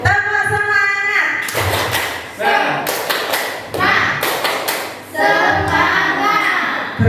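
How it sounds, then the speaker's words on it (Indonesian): A group claps through the rhythmic tepuk semangat routine in a classroom, sharp bursts of hand claps in patterned clusters mixed with voices chanting and speaking. "Ya, kita bersama-sama melakukan tepuk semangat."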